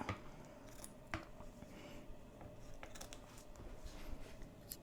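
Faint, close snips of scissors cutting through embroidery fabric for reverse appliqué, a few quiet cuts spaced unevenly over low background noise.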